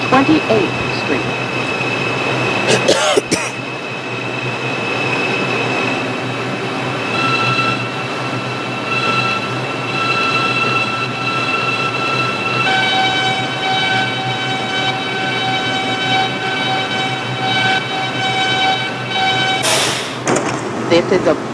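An R142 subway car on the 6 local line rolls along with a constant loud rumble, a door or mechanism clatter near the start, and rising motor whine tones later, ending with a brief burst of noise.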